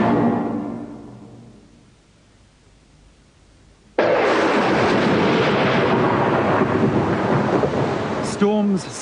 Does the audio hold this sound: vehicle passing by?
no